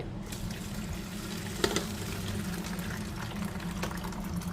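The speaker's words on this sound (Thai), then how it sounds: "เพียงแค่เรานำขวดน้ำมาใส่น้ำให้เต็มขวด" Water pouring steadily into a plastic drinking bottle, a continuous soft trickling fill close by with a faint splash partway through.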